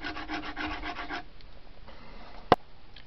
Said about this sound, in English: I've got the antler all filed down, sanded down, contoured nice.